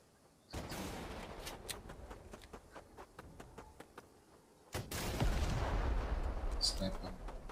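Heavy gunfire from a big gun in the Killer Bean video game: a loud sustained barrage, then scattered sharp shots, then a second, heavier roaring burst of fire with booming low rumble.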